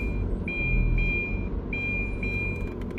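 A recycling collection truck reverses on a residential street, its high reversing beeps sounding in a regular on-off rhythm over a steady low engine rumble, fairly close and with no voices.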